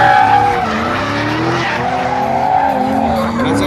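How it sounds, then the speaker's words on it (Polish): Drift car tires squeal continuously at a Polish drifting competition at Tor Tuczępy, a loud, sustained wailing skid with shifting pitch layered over a revving engine, close to the track. "najmocniejsze pojazdy walczące w ligach driftingowych w Polsce legitymują się mocą ponad 1000 konnych"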